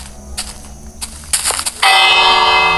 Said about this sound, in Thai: เสียงระฆัง